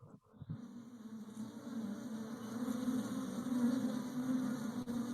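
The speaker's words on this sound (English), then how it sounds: "somewhere you can hear the buzzing of bees as they go about their business" Bees buzz in a meadow, a steady, close droning hum that holds unbroken throughout and swells slightly toward the middle, with no voices.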